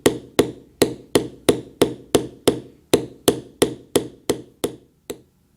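Thirteen sharp, evenly spaced mallet strikes on a leather beveling tool while working a tri-weave basket stamp pattern, each crisp knock decaying quickly, close and alone.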